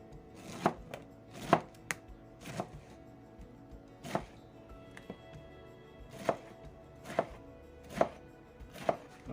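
A knife slices food into quarter-inch pieces for a dehydrator, giving about ten sharp, close chopping knocks on a cutting board at an uneven pace, with no talk.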